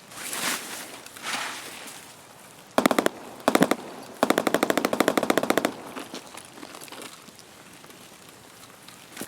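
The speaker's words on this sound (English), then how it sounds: "You can already hear him sniping." Sniper gunfire in the video game Escape from Tarkov: a few sharp isolated shots, then a long rapid burst of repeated reports, fairly loud against quieter ambient noise before and after, with no talk.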